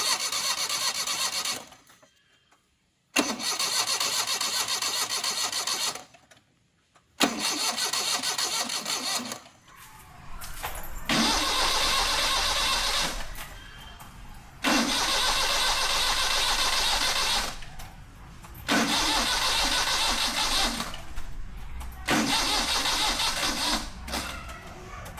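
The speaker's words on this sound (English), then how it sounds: "Now, I'm going to start the car and see if it works or not." A car engine is jump-started from a small 20V 2Ah power-tool battery: repeated cranking bursts with pauses, then the engine catching and running roughly in loud surges.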